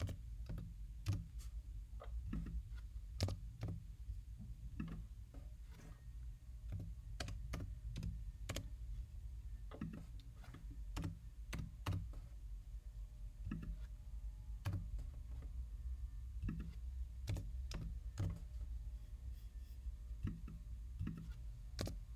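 Data values are typed on a computer keyboard as a quiet, close run of irregular key clicks with short pauses, continuing throughout with no talking.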